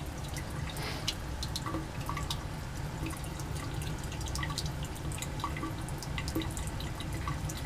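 Liquid ketone added dropwise into a Grignard reaction flask, a steady stream of small, close drips over a constant low background hum, with no talk.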